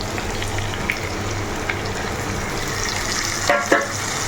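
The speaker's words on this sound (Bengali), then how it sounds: "এবার মশলাটা দিয়ে ভালো করে এগুলোকে কষাবো" Spices fry with tengra fish curry ingredients such as new potato, radish, lentil dumplings and tomato in a pan, a steady close sizzle with a few stirring clatters near the end.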